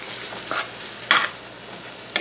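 A pan of diced onion fries with a soft, even sizzle while a utensil stirs it, giving two or three sharper scraping bursts; close but quiet, with no talking.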